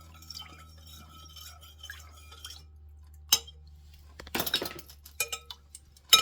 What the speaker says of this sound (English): Now we're gonna stir it up.